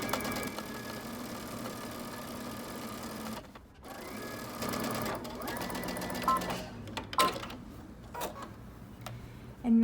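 A sewing machine runs in steady bursts as it stitches a folded jacket cuff for a Simplicity 8558 pattern jacket. The motor whirs loud and close, pausing briefly between runs, with no one speaking.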